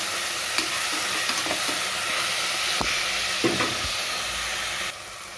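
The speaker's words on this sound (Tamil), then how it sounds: "தக்காளி வதங்குறதுக்கு கொஞ்சம் உப்பு போட்டுக்கணும் நல்லா வதக்கி வச்சுக்கணும்" Tomatoes sautéing with salt in a pan for chicken biryani give off a steady hissing sizzle, with a few spoon scrapes and taps mixed in, and the sound quiets abruptly near the end with no speech.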